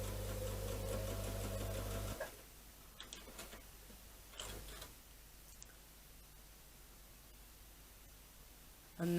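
A sewing machine with a quarter-inch foot briefly stitches a log cabin quilt block, a steady whirring hum for about two seconds before it stops, followed by quiet fabric handling and small taps.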